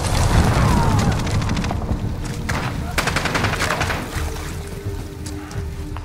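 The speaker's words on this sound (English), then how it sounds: "Enemy cruise missile incoming." Cruise missile strike in Call of Duty Modern Warfare II multiplayer, heavy booming explosions layered with rapid gunfire bursts, loud and dense at first and then easing into scattered shots, with faint game voice chatter underneath.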